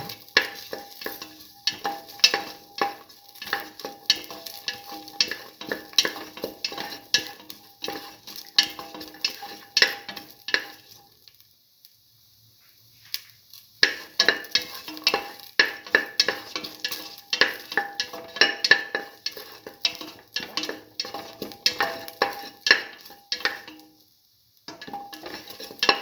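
Garlic mung bean tamarind stew stirred in a pan, with repeated scraping and sizzling strokes of a utensil against the pan, a short pause midway, then more steady stirring, fairly close and with no talk.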